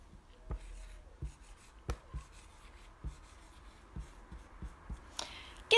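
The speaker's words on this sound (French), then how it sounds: "Alors, j'écris." Handwriting in French during a lesson on plane shapes, with soft scratchy pen strokes and light taps on paper, quiet and close, broken by a few sharper knocks.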